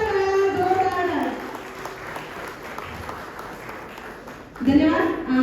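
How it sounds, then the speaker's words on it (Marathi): Loud applause from a crowd at an award ceremony at Azad Maidan, Mumbai, a dense burst of clapping in the middle, with an amplified voice speaking before and after it. "जोरदार टाळ्या, जोरदार टाळ्या"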